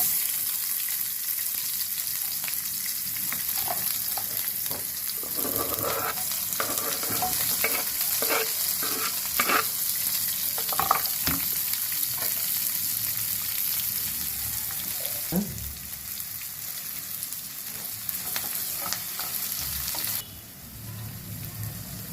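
Dried red chillies and onion pieces frying in oil for a ponnaganti leafy greens dish, a steady close sizzle with scattered crackles and stirring scrapes running throughout, no talk.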